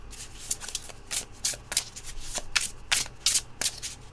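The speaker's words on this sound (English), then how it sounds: "I guess we're just gonna shuffle." A deck of tarot cards is shuffled by hand, giving repeated crisp riffling bursts in a steady irregular rhythm, close and fairly loud, with no talking.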